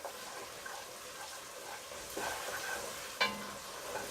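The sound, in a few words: stirring chicken leg quarters in a cooking pot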